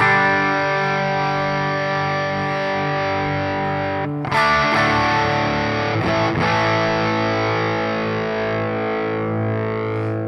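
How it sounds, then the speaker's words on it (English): Fuzz guitar tone from a Wampler Brent Mason ReWired overdrive pedal: a loud, sustained, buzzy distorted chord ringing out, then restruck with a short scrape midway and left to decay, no talking. "you can actually get a fuzz sound out of that."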